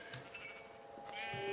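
A sheep in the Minecraft video game bleats in quavering calls, with a louder drawn-out bleat near the end, alone and close.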